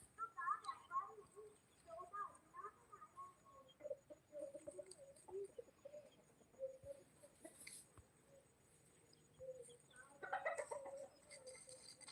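Free-range country chickens on a poultry farm cluck and call intermittently, soft and somewhat distant, with a louder burst of clucking toward the end over faint background noise.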